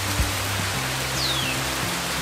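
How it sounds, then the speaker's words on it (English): Steady rainfall hisses evenly in a soft, continuous wash with faint patters, heard alone at moderate level throughout. "if you sit back and you just listen to rain, you just sit back and listen to it."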